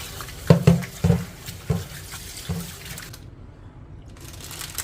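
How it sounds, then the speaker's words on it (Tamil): Tap water splashes into a container while cleaned jumbo tiger prawns are rinsed in a kitchen, several short bursts of pouring and sloshing that then fade to a quieter trickle. "இனிமேல் தான் தண்ணி ஊற்றி 2-3 தண்ணி ஊற்றி அலசிக்கிடலாம்."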